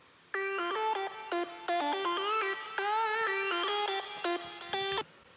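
A bright EDM synth lead from a track intro plays a choppy, stuttering melody of short sustained notes with gaps, distorted and chorused, fairly quiet and alone.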